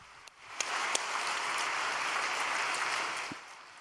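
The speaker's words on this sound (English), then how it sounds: "Why don't we give a big round of applause to them?" A vigil audience at Cheonshim Won breaks into a round of applause: a few scattered early claps swell into a full, steady wash that holds, then begins to thin near the end.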